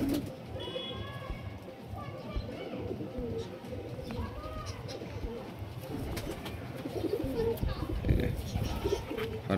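Giribaz pigeons cooing softly in repeated low throaty calls, close by, mixed with occasional chirps and someone talking over them.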